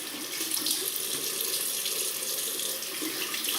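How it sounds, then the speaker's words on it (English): A bathroom tap runs steadily to rinse a double-edge safety razor, a constant splashing hiss of water hitting the sink, close and uninterrupted with no talking. "Off we go, rinse the razor"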